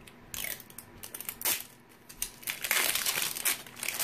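Plastic wrapping on an LOL Surprise doll ball is peeled off, giving close crinkling and crackling with several sharp tearing bursts, busy and loud, with no speech.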